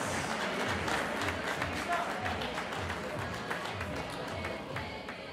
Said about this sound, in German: großen Applaus